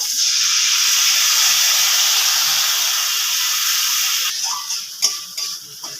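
Asafoetida soaked in water poured into hot oil for an old-style chana dal, giving a loud, steady, close sizzle and steamy hiss that fades toward the end as stirring clinks break in.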